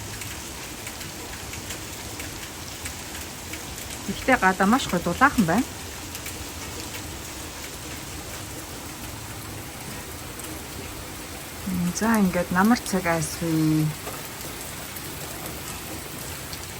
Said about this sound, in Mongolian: 9 сарын 14 энэ намрын хамгийн анхны хүчтэй бороо орж.